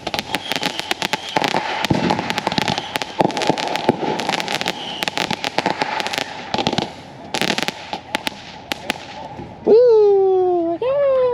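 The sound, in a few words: New Year's fireworks exploding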